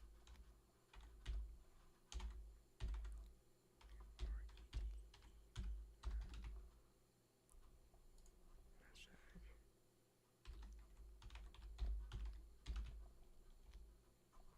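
Typing on a computer keyboard, close and quiet, with bursts of key clatter separated by short pauses while someone whispers over it.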